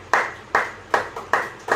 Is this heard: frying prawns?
no